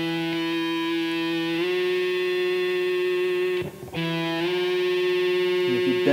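On a quartertone guitar, a sustained distorted note rings with strong harmonics and is bent slightly to match a harmonic. It breaks briefly and then resumes, loud and alone.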